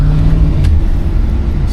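A 1992 Cadillac Brougham engine revving as it takes a wet corner, a loud close low rumble that holds steady throughout the short stretch.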